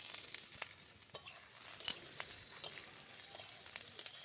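Chopped onion sizzling and frying in hot oil in a pan, with radish greens to follow, a steady close crackle with small pops and occasional stirring scrapes, no voices.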